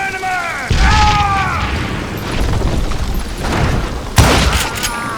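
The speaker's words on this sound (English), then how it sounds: "Dynamite!" Dynamite explodes in the video game Call of Juarez Gunslinger with two loud, deep booming bursts, one early and one near the end, over dense game noise and voices.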